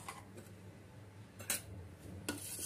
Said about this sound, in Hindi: अच्छी तरह से मिक्स कर लीजिए।